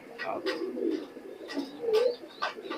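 An imported high-flying pigeon coos close by in a series of soft, rolling, throaty calls with short pauses between them.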